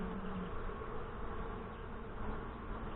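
Saskatraz honey bees buzz around an open hive during an inspection, a dense, continuous hum of many insects close by and at moderate volume, with no talking.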